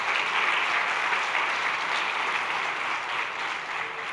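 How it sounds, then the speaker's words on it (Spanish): A church congregation applauds during a sermon, a broad, even wash of many hands clapping that holds steady and loud for four seconds with no speech over it. "denle un aplauso al Señor"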